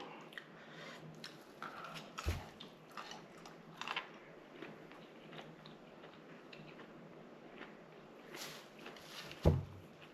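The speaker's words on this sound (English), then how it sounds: "Got a nice crunch to it." Someone chews crunchy stir-fried broccoli from a beef and broccoli dish at close range. Faint, irregular crunching and biting run throughout, with a few louder crisp bites standing out, and no one talks.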